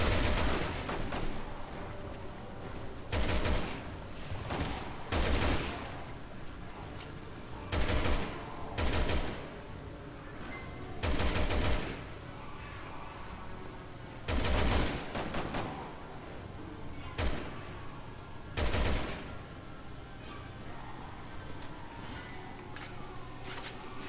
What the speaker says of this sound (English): this machine gun is pretty awesome